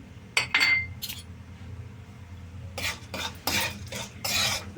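Tempering spices, chana dal, mustard seeds, cumin and dried red chillies, are stirred in hot oil with bursts of spoon-on-pan scraping and metallic clinks. A faint sizzle sits between the stirring bursts, and no one speaks.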